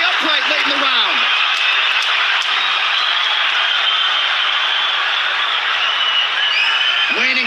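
UFC championship fight crowd roaring late in the third round of a lightweight title bout, a loud, unbroken wall of cheering that holds for several seconds with brief voice fragments at the start and end.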